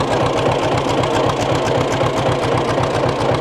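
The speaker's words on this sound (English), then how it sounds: "I don't know if this is John Deere A, John Deere B." A vintage John Deere tractor, a model A or B, pulls a cultivator through a field. Its engine throbs up close with a steady, rhythmic low chug and a constant mechanical clatter from start to finish.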